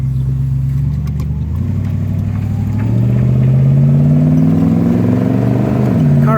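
A 1964 Mercury Comet convertible pulls away hard from a start in first gear, its engine rising in a loud, steady rev with a gear change partway through, close and alone with no talk.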